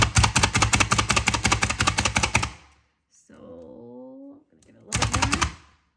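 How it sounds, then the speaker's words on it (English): Rapid, rhythmic pounding of a manual food chopper, a quick run of sharp clacks, then a voice speaks, then another short burst of chopping. "the more times that you pound on it, the finer your chopping is going to be"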